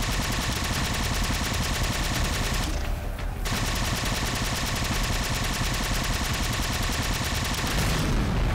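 A spread-shot weapon fires in Halo Spartan Ops, a long, loud and nearly unbroken stream of rapid shots. There is a short lull near the middle before the fire resumes, and nobody talks.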